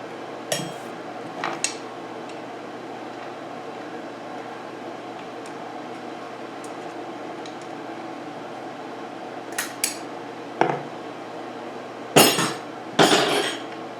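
Small metal tools clink and tap while a snap ring is fitted on a 1971 Honda CB175 engine, with scattered sharp knocks and a few louder clanks near the end over a steady background hum.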